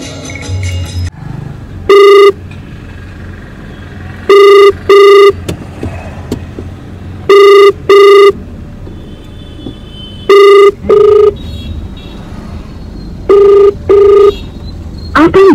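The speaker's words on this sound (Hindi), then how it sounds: "आप जिस व्यक्ति को कॉल कर रही है वह उत्तर नहीं दे रही है" Phone ringback tone repeating unanswered, paired beeps every few seconds over a steady low hum of road noise, as a call to a mobile goes unpicked during a muddy drive.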